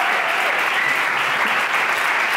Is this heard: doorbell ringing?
no